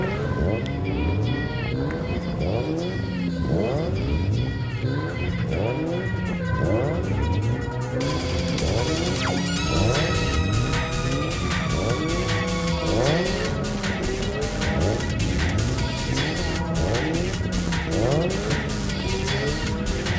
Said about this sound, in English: autocross.